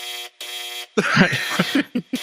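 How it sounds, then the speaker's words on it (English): An electronic trivia game buzzer sounds during a game, two sustained flat tones followed by a burst of rapid, shorter buzzes in quick succession, loud and close. "Brett, keep buzzing in. I'm trying to reset the buzzer."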